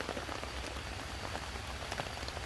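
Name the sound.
rain falling on a tarp while camping in a city park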